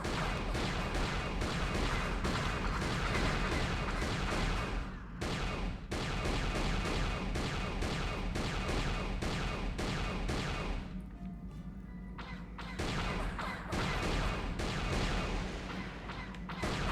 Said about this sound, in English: I do like how they do reuse the explosion effects from A New Hope